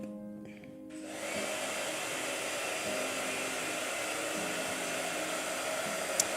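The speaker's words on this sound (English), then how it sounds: "All right, blow dryer." After a second of quiet, a handheld blow dryer switches on to dry paint and runs with a loud, steady, close whirring hiss until the end.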